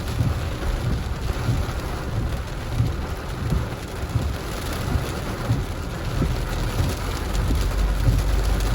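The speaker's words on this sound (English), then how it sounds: "And the rain is coming down more and more" Heavy rain from a cold front pouring down steadily in Montego Bay, Jamaica, a dense, continuous hiss with low rumbling underneath and no voices.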